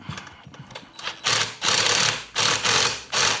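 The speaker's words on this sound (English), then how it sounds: "17mm wrench." Ratcheting and clicking of a 17mm wrench tightening frame parts on a 1987 Honda XL600R motorcycle, several short bursts of rapid mechanical clatter with brief pauses between, close up, no talking.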